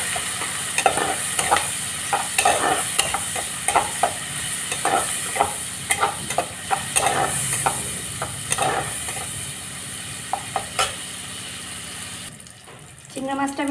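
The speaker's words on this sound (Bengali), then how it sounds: "ভালো করে ভেজে নেব।" Sizzling frying in a pan after salt and turmeric powder go in, with a spatula scraping and tapping in an irregular rhythm over a constant hiss, close and fairly loud, then a short break near the end.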